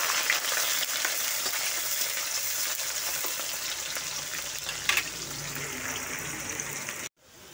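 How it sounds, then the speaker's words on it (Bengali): Chopped onion frying in a pan of oil for chicken curry, a continuous even sizzle with light stirring scrapes, steady and close before cutting off abruptly near the end. "তারপর আমি পেঁয়াজটা দিয়ে দিচ্ছি, পেঁয়াজ কুচি। এটাকে ভালো করে ভেজে দেব।"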